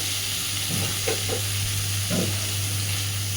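Potato, eggplant and green banana pieces frying in a pan give a steady close sizzle, with a few brief scraping stirs partway through and no talking.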